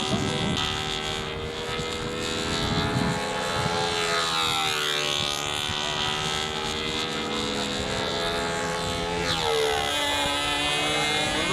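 A radio-controlled model airplane at a national competition drones steadily overhead, its engine whine bending in pitch as it passes and circles, loud and continuous with no voices.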